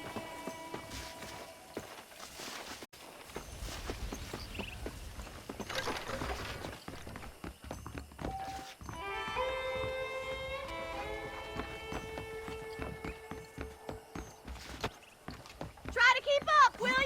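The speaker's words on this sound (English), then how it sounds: "The horses are saddled up over here." Horses clip-clopping along in Red Dead Redemption, hoofbeats running under game dialogue and music throughout, with a louder burst near the end.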